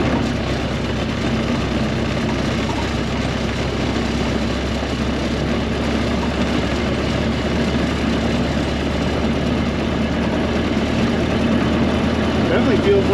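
A period-correct hot rod engine with a newly fitted electric fuel pump idles in second gear, giving a steady, loud, low rumble that holds even for the whole stretch.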